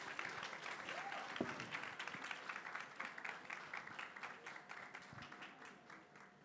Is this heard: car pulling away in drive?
no